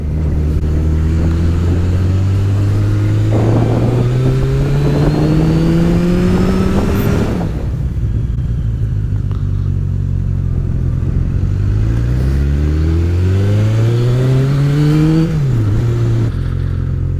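A vehicle exhaust revs hard and close, climbing in pitch for several seconds, cutting off, then revving up again in a second rising sweep.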